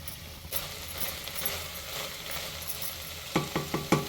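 Vegetables frying in oil and ghee over a medium flame for mint pulao, stirred with a steady low sizzle and soft scraping, then a few sharp utensil clatters near the end.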